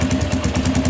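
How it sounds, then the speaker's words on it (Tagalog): A motorcycle engine with a fault that makes it choke and die when revved high, running steadily and close with a pulsing, uneven beat, no talking over it. "Parang nabubulunan siya pagka high rev."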